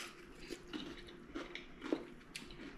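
Crunchy fried crappie fish being chewed at close range, with several soft crunching bites spread over a few seconds and no talking.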